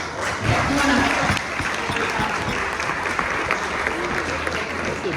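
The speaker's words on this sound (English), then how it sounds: "Let's give him an applause." A live audience applauds at a Signal Hill fundraiser as a guest named Graham is called up, with dense, steady clapping that swells near the start and carries on with crowd noise and some talk underneath.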